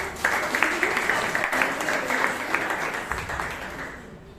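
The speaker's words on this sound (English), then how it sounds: "Let's give a big round of applause to Toastmaster Vishal" An audience at a Toastmasters club meeting in Bangalore gives a round of applause, a steady wash of many hands clapping that holds for several seconds before it fades.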